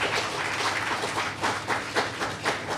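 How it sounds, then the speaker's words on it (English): Church congregation clapping together during a Sunday praise and worship service, a steady dense wash of many hands with faint rhythmic pulses, loud and close, no talking. "Let's give a clap offering unto the Lord"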